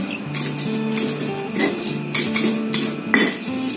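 Shallots being ground with a mortar and pestle, a steady run of close knocks, scrapes and ringing clinks that keeps going with a few sharper strikes.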